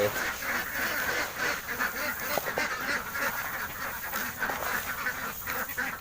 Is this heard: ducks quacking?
yes